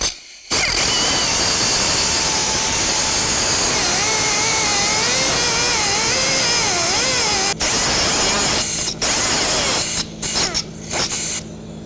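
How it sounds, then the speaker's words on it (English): A loud, high-pitched power cutting tool slices through a ball joint stud on a 1998-2002 Honda Accord, whining steadily with a wavering pitch, then stopping and restarting in short bursts near the end. "then we'll continue on by cutting off the stud"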